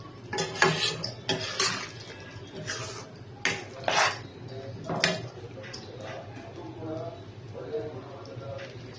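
Utensil scraping and clinking against a pan while tuna curry is stirred, a series of irregular clattering strokes that carry close by, with talk faint in the background.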